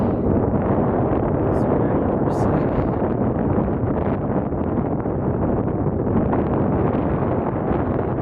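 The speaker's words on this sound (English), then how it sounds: "the wind's pretty crazy up here" Strong wind buffets the microphone high up at the Columbia Icefield, a steady, loud broadband roar that runs through the whole stretch without letting up.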